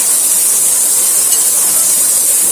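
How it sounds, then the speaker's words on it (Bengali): Chopped onions sizzling in hot oil in a pan, a steady dense hiss and crackle that holds evenly throughout with no talking over it. "ভালো করে পেঁয়াজটা ভাজা হয়ে গেছে।"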